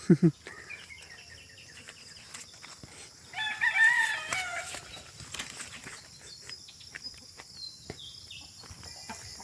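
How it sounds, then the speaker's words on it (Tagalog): A rooster crows loudly in the middle, preceded by a short cluck, with scattered farmyard noises and faint rustling around it. "Pagkain muna tayo ng alaga nating manok doon."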